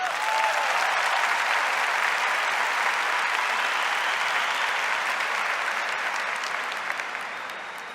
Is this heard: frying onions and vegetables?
no